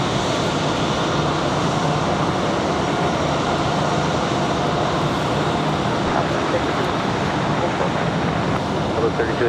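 An American Airlines plane arriving from Charlotte at Raleigh-Durham airport, heard as a loud, continuous broadband engine roar that holds steady throughout, with voices faintly present.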